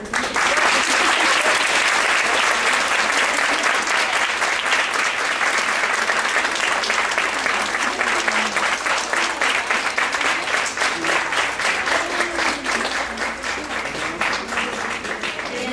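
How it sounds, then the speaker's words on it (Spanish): Audience applause at a conference session after a speaker receives a certificate, dense continuous clapping, loud and sustained for the whole stretch with faint crowd murmur underneath. "pues un aplauso"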